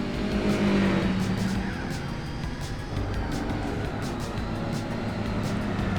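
A Superbird with a six-speed transmission driven in Gran Turismo 4: a loud, continuous engine drone with a high, steady gear whine that shifts pitch at gear changes.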